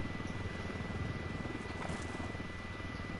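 An upside-down helicopter in a video game gives a steady, loud rotor and engine drone with a low pulsing thump, continuous throughout and heard alone.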